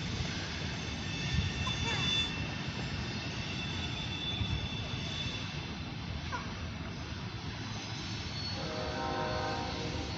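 Norfolk Southern freight train with two locomotives rolling past a street crossing, a steady broadband rumble and rail noise holding at constant loudness, with a person talking over it.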